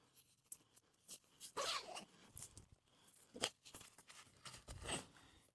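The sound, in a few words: zipping a tent zipper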